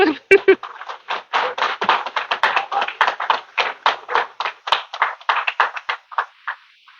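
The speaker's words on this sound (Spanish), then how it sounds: "Dele un aplauso al Señor, pues." A church congregation claps together in a steady, fairly quick rhythm of sharp hand claps lasting several seconds, close and loud in a reverberant hall, with voices mixed in.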